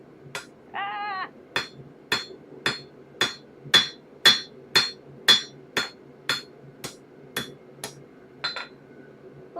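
Hammer striking a forged dagger to work bevels along its edges, about fifteen evenly spaced ringing metallic blows at a steady rhythm, close and clear, with a brief squeaky sound just before the strikes begin.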